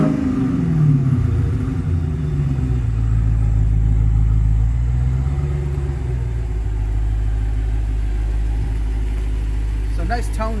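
A 2021 Dodge Challenger with the 392 Hemi V8 and stock exhaust rumbles steadily at idle after firing up, a deep, loud, continuous burble that holds throughout.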